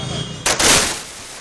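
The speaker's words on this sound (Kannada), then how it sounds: "ಪಟಾಕಿ ಹಚ್ಚಿ ಸಂಭ್ರಮಿಸ್ತಾ ಇದ್ದಾರೆ" Celebratory firecrackers set off by supporters in Narasipura, a couple of sharp loud bangs close by followed by a crackling burst that fades into a hiss.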